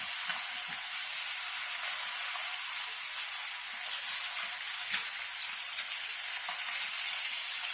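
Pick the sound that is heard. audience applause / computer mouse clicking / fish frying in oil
fish frying in oil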